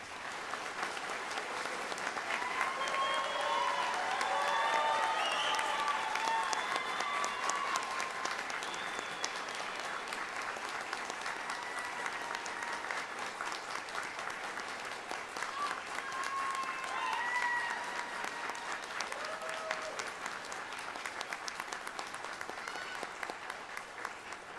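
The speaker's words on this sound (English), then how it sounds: "Please give a round of applause for the graduates." Sustained applause fills a hall as an audience claps for graduates at a CBP graduation ceremony, a dense, even patter of many hands that lasts over twenty seconds, with scattered cheers and faint voices mixed in.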